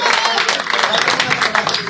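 A crowd at a village election rally in Aganpur, Gannaur, applauds loudly to honour donors, a dense, continuous burst of clapping at close range with voices faintly underneath.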